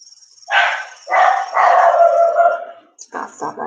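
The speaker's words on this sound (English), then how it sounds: "Gotta stop that dog." A dog gives several barks and drawn-out howling yelps nearby, loud and uneven, followed by a few shorter yips.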